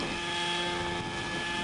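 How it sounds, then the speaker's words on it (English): A small autonomous helicopter flying difficult aerobatic maneuvers under computer control over a football field, heard as a steady, continuous whirring engine and rotor drone with wind noise, fairly loud and unchanging throughout. "one of the most difficult aerobatic maneuvers flown on any helicopter under computer control"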